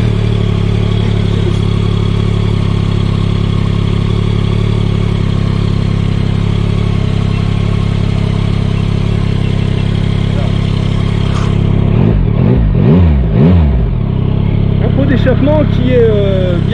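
A 2022 Yamaha MT-09 three-cylinder motorcycle in A2-licence form idles with a steady, loud mechanical hum, then its engine is blipped in several quick revs that rise and fall sharply before settling back near idle, recorded up close.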